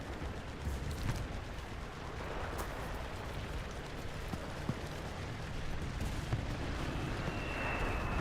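Artillery barrage in the Enlisted battlefield game, distant booming impacts and rumbling detonations scattered over a noisy, continuous combat background, fairly faint overall.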